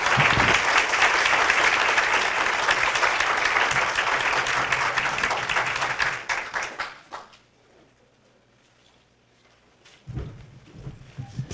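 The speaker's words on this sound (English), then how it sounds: "How about another round of applause for Dan?" Applause from an audience for a presenter at a pitch event, loud sustained clapping for about seven seconds that fades into near silence, with a brief burst of sound near the end.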